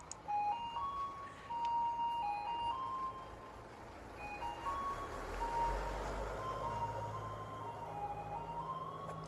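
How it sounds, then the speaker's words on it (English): A Japanese garbage truck plays a tinny electronic melody mixed with repeated reversing beeps, heard faintly from a distance over low outdoor rumble. "It's a Japanese trash car."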